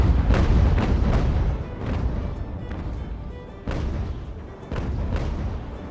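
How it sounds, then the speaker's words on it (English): Naval cannon fire in the sailing battle game Ultimate Admiral: Age of Sail, as a sloop trades shots with two cutters, comes as a string of deep rolling booms over a dense, roaring battle background, with no talk. "Our little sloop there is taking a fair bit of fire from both of the cutters at the same time."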